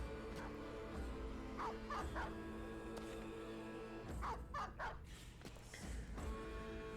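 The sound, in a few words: enemy dogs barking in Battle Brothers video game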